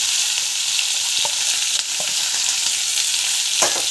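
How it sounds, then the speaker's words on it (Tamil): Garlic and onion sauté in hot oil for a Tamil kara kuzhambu, giving a steady close sizzle and fry hiss with a few soft stirring scrapes and clicks, no voices. "பூண்டு வெங்காயம் ரெண்டுத்தையும் வந்து ஆட் பண்ணிடலாம். நல்லா வந்து இந்த மாதிரி வந்து வதக்கிக்கலாம்."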